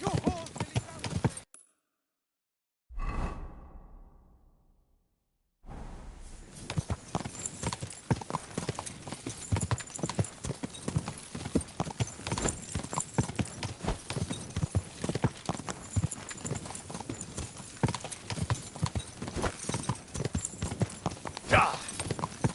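Rapid, continuous clip-clop of horse hooves on a hard surface, close and loud, following a brief silence near the start.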